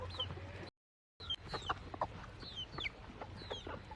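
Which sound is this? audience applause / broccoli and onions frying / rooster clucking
rooster clucking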